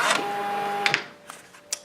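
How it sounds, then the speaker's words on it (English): A label printer whirs loudly as it feeds out a label, then a few sharp clicks follow as the cutter snips it off and the motor falls quiet. "that will feed out an inch in addition to what I had, and it will cut it off"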